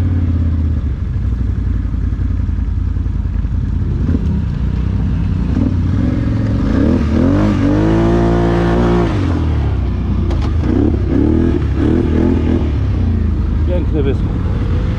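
Quad ATVs, a CF Moto 625 and Can-Am 1000/650 models, rev loudly as one rides off on a Sunday outing, the engine note rising and sweeping through pitch over a steady throaty drone, with people shouting nearby.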